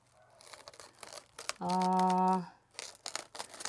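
A brief crinkly tear of plastic food wrap film close by, lasting under a second, between quiet handling noises.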